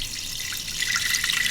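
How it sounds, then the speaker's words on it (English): About a cup of water poured into an Instant Pot holding a trivet, a steady close splashing and trickling stream that runs without pause for a second and a half, with no voices. "I'm adding about a cup of water."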